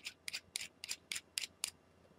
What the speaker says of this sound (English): you want to take your scissors, trim a little bit more off